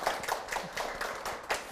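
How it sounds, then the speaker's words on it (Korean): Audience applause at a televised lecture show, a steady wash of many hands clapping with slight rhythmic swells, moderately quiet and continuous with no talk over it. "박수 부탁드릴게요"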